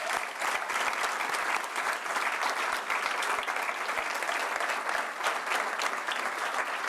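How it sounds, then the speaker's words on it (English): Audience applause at a university alumni awards ceremony, sustained and even clapping from a large crowd, with occasional sharper individual claps standing out, lasting about seven seconds with no speech over it. "A round of applause."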